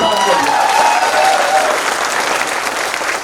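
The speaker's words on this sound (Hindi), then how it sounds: "एक बार जोरदार तालियां चाहूंगा हमारी कंपनी के ब्रांड के लिए।" Loud, sustained applause from a crowd at a company success-day event honoring its brand, a dense wash of clapping that continues steadily throughout and gradually eases slightly toward the end.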